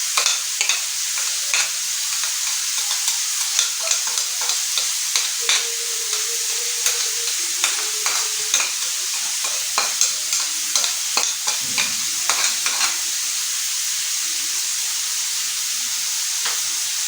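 Ground onion is stirred into keema frying on a tawa, a continuous hiss and sizzle broken by repeated sharp scraping clicks of a spatula on the metal, close and steady, with no talking.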